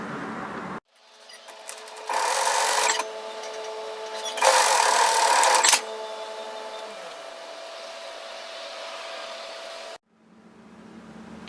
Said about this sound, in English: And then stitch those together.